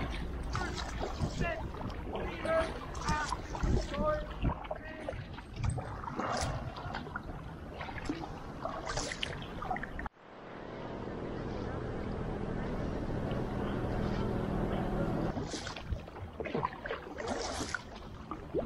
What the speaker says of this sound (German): waren in Mülheim jede Menge Ruder- und Drachenboote unterwegs